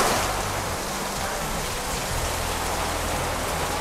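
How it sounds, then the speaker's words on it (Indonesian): Heavy rain pours down steadily and loudly throughout, a dense continuous hiss of drops beating on surfaces with no voices over it. "hujannya deras banget guys"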